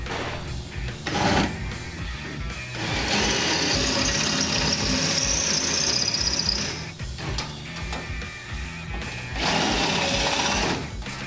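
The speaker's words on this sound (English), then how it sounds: "So now I've switched to a 5/16 bit. And what I'm going to do is try to drill halfway through" A power drill with a 5/16 bit bores into a hood bracket on a Ford F100. The bit whirs in sustained bursts broken by short pauses, close up and fairly loud.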